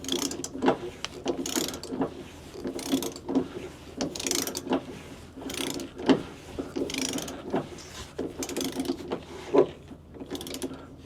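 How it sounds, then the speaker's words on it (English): Plastic fuel filter housing on a GM 3.0 Duramax diesel being screwed down with a ratcheting tool, giving repeated close clicking bursts in an uneven rhythm, about a dozen strokes with short pauses between them. "start screwing it down as tightly as we can by hand"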